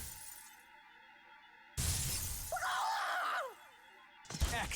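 A space-time shield in Rogue Galaxy shatters with a sudden loud glassy crash, followed by a ringing, warbling breakup that fades after a couple of seconds, set against quieter game music.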